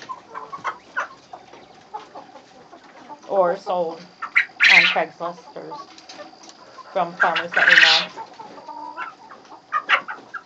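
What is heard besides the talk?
chickens clucking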